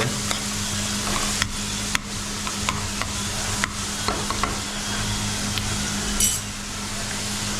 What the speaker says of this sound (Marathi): आता ढवळून घेतो आम्ही कढईमध्ये